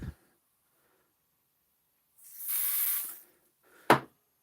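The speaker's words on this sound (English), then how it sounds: "So this is WD-40 contact cleaner." WD-40 contact cleaner gives one steady hissing spray burst of about a second in a quiet room, followed shortly by a brief sharp click.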